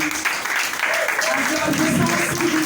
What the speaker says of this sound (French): Applaudissons s'il vous plaît, applaudissons